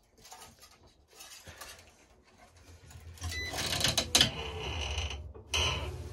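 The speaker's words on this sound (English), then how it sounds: "You can actually hear the string creaking as it's pulling through." Tennis racket string creaking and grinding as it is pulled through the frame while stringing a fake Wilson Pro Staff R97, a close, dense run of mechanical creaks that gets louder and harsher midway.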